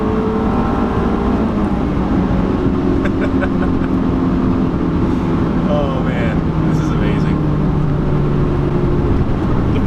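A stock Honda S2000 engine drones and revs from inside the cabin, a steady loud mechanical hum with rising pitch, while someone speaks excitedly over it.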